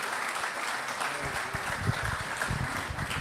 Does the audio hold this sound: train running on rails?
no